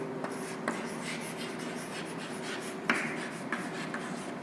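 A pen writes on paper, soft continuous scratching strokes with small taps and pauses, close and quiet.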